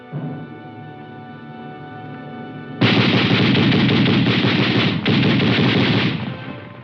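Sustained automatic gunfire from 30-caliber machine guns mounted on armored carriers rattles loud and close, starting after an engine-like hum and running in long continuous bursts with one brief pause.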